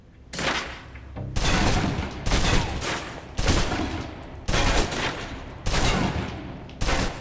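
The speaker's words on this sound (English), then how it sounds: "Now, let's move on to the submachine gun. Now let's empty the clip." A submachine gun empties its magazine in the video game Alpha Protocol, fired in about six loud bursts of rapid shots separated by short pauses.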